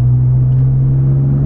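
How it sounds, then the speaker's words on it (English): Cars pass along a town street in Mexico, a loud, steady low engine rumble close by with a constant hum and no speech. "there's so many cars coming"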